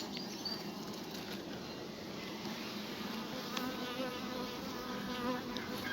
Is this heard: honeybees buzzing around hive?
yes